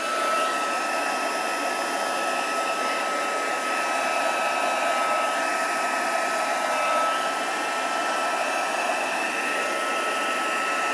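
A hair dryer or heat tool blasts a damp piece of watercolour card, producing a loud, unbroken rushing whoosh that holds steady from start to finish without any voices.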